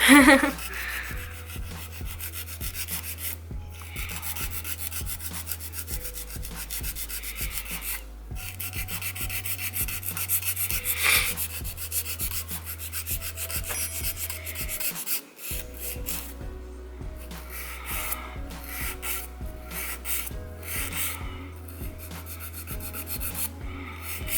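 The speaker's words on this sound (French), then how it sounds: "j'ai coupé mes ongles et maintenant je vais les limer" Fingernails being filed with a nail file after trimming, a continuous close rasping rub with steady repeated strokes and brief pauses, no speech.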